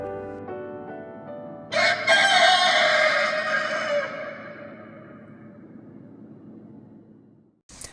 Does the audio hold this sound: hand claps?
no